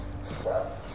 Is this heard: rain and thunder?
no